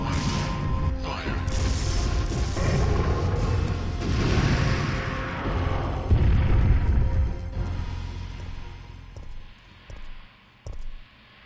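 A weapon fires at Nemesis in Resident Evil 3, with a loud sustained rumbling blast that runs for several seconds and then breaks into a few fading mechanical clanks and thuds.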